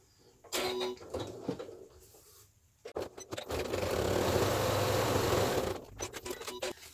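A sewing machine stitches across the top of a fabric bag, first in short whirring bursts, then in one steady fast run of about three seconds, followed by a few brief stops and starts.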